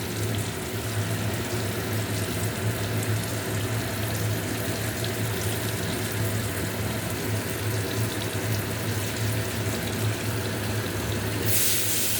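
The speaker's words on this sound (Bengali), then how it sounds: "জল দিয়ে দিলাম।" Water poured into a pan of curry, a continuous rushing splash that stays even and fairly loud throughout.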